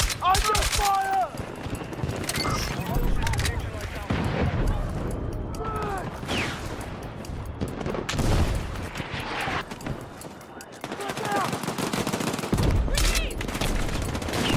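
Sustained gunfire in a shooter video game: steady volleys and sharp shots run throughout, loud and close, with a few louder blasts. Voices call out over the shooting at several points.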